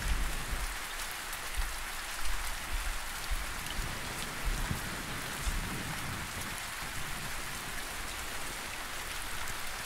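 Steady rain in the survival video game Survisland: a dense, even patter of drops with a soft low rumble underneath, continuous and close throughout, and no voices.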